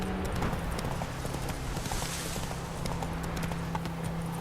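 Horse hooves clopping steadily at a gallop in The Witcher 3: Wild Hunt, a continuous rhythmic patter with a low drone beneath, close and fairly even in loudness throughout.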